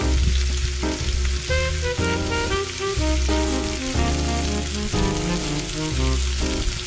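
Pancit bihon ingredients with soy sauce frying and being stirred in a pan, a dense continuous sizzle and crackle heard up close, partly covered by steady background music, with no talking.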